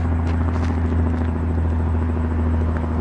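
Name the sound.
helicopter flying overhead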